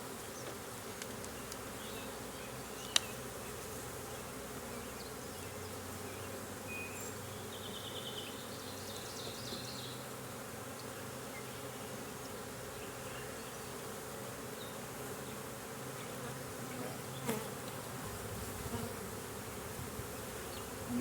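Honey bees hum steadily around an open honey-production hive, a dense continuous buzz filling the whole stretch with a few louder bees passing close by.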